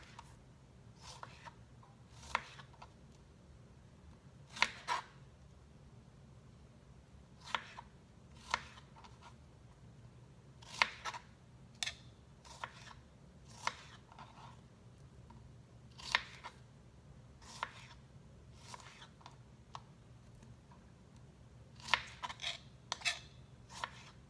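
Fruit being sliced with a knife after its tops are cut off, heard as a series of quiet, crisp cutting taps at an uneven pace against a low background hum.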